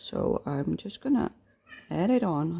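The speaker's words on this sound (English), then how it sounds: "That's my cat meowing." A house cat meows a few times nearby while a person talks over it indoors during a crayon coloring session.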